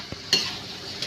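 Fish and fried masala are stirred in a pan over gentle sizzling, with a few sharp clinks of a spoon against the metal rim, close and alone.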